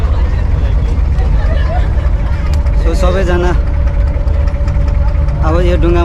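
A passenger boat's engine idles with a loud, steady low rumble while it waits to fill before departure, and people talk nearby over the throbbing motor.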